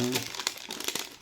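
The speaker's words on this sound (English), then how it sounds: "Just remove this packaging" Crinkly packaging being pulled off an emergency light panel, a short close burst of crumpling and rustling with a brief murmur of voice at the start.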